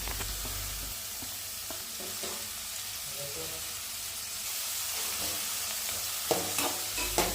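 Chopped vegetables for vegetable and soya fried rice frying and stirred in a pan, a constant close hiss with light scraping, ending in a few louder clatters of the spatula.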